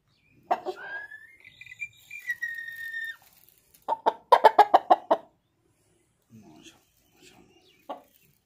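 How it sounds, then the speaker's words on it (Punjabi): A Multan fighter rooster clucks and gives short croaking calls in bursts, close and loud, with a quick run of rapid clucks midway and quiet gaps between. "ਕਾਫੀ ਪਿਆਰਾ ਮੁਰਗਾ ਹੈ"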